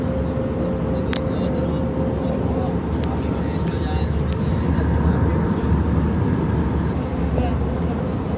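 A steady, loud drone of airplane cabin noise fills the whole stretch, with a constant engine hum and a few short clicks and knocks on top.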